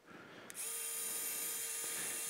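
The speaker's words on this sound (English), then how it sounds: "Next, we will drill over this wire in preparation for the micro-compression FT screw." A surgical power drill spins up after a brief click and runs at a steady high-pitched whine, drilling over a flex wire into a toe's proximal phalanx bone during a minimally invasive hammertoe correction; loud and close, with no talking.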